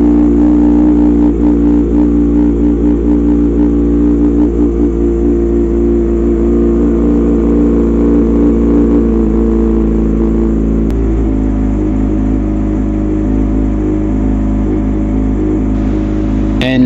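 Kawasaki ZX6R motorcycle engine with an SC titanium exhaust running steadily during a cold-start warm-up, a loud, continuous close-up drone with slight pitch shifts and no talk.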